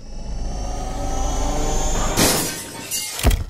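A glass window pane shatters in a cartoon scene: a sudden loud crash with bright scattering shards after a humming background, followed by a second sharp smashing hit near the end.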